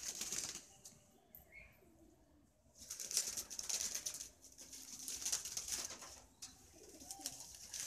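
Chabdar Madrasi pigeons cooing and shuffling in a Kolkata loft, with intermittent wing flutters and soft calls at close range, no talking.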